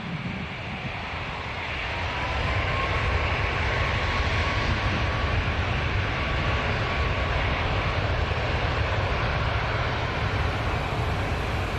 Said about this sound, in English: Flight 731 lining up now after this MAX 8 departure.